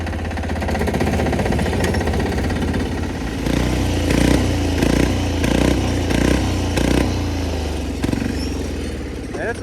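A diesel-swapped 1970s Sears lawn mower engine chugs loudly up a hill off-road, its pulsing exhaust note rising in a steady rhythmic beat as it works under load, close and continuous throughout.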